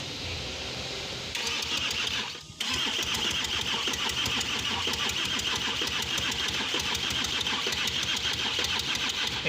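A 2013 Audi diesel engine cranks without catching after an oil leak repair, giving a rapid rhythmic starter churn that pauses briefly, then resumes and keeps cranking steadily, loud and close, with no firing.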